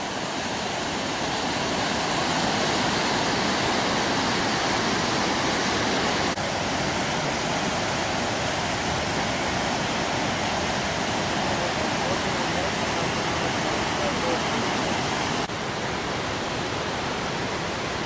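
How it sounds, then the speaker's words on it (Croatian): Strong waterfalls on the Rječina river roar as a dense, steady rush of water, loud and unbroken throughout. "To su ipak malo jači slapovi."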